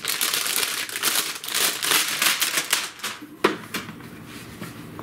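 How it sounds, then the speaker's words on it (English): Plastic packaging being cut and pulled off a ChargePoint Home Flex EV charger unit: close crinkling, tearing and rustling in bursts, with one sharp snap near the end. "Got some plastic to cut off."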